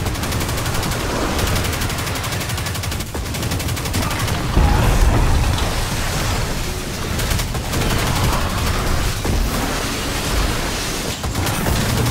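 Heavy, continuous gunfire and explosive noise during the Caretaker encounter of the Vow of the Disciple raid in Destiny 2, a loud unbroken barrage with faint voices buried beneath.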